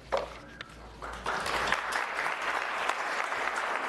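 Crowd applause breaks out at a public city meeting on short-term rental rules in Lexington, beginning after a few scattered claps and swelling into sustained, dense clapping.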